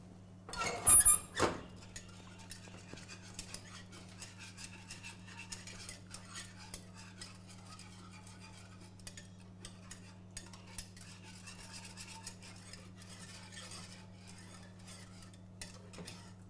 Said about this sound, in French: On va mélanger le tout.